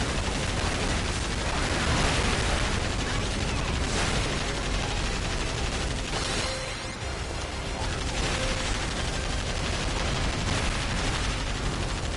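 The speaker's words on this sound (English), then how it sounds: "I love that this gun doesn't run out of ammo. Like, you can just hold down the fire button." Unbroken gunfire from an infinite-ammo gun in the video game Earth Defense Force World Brothers 2, a dense, loud stream of rapid shots held steadily for the whole stretch with barely any pause.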